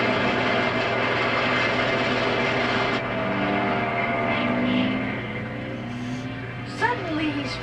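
Snoopy's propeller airplane droning along in flight, a steady buzzing engine hum that fades slightly toward the end as brief other sounds cut in.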